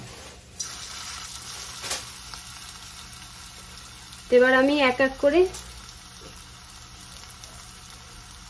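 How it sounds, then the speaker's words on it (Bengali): Pakoras of bitter gourd leaves sizzle in very hot oil in a scorched kadai, giving a steady, close frying hiss throughout while someone talks briefly over it. "কড়াইয়ের মধ্যে আমি পকোড়াটা ভেজে নেব"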